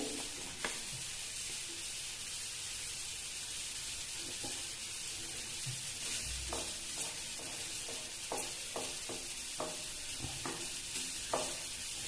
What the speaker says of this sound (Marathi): या ठिकाणी जिरं मोहरी टाकते मिरची टाकते